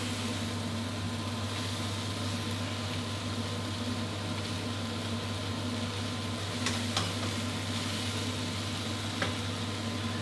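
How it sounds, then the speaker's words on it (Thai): Wai Wai noodles with fresh shrimp stir-fried over high heat: a steady low hiss of frying with a constant hum of burner or fan, and occasional faint scrapes of the spatula. "อย่างนี้ผมใช้ไฟแรงก็ต้องคอยหมั่นคนนะครับให้ร้อนทั่วๆกันแล้วก็สุกทั่วๆกัน"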